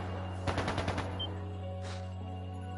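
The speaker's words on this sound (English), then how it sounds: "That sounded like gunfire." Gunfire in the video game Trails of Cold Steel: a quick burst of rapid automatic shots over a steady low hum, then a single softer noisy burst shortly after, with no talking.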